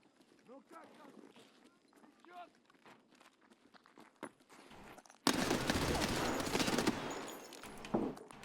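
Rapid automatic gunfire in the video game Escape from Tarkov, a sudden loud burst of shots continuing for about three seconds after a stretch of quiet talking and light footsteps.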